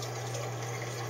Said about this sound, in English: You see the water flowing down, and then the water level's a little bit lower.